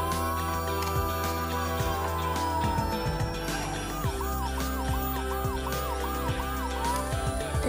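A Playmobil toy fire chief car plays its electronic siren, a loud, steady synthetic wail that shifts into a rapid repeating yelp partway through, with no talk over it.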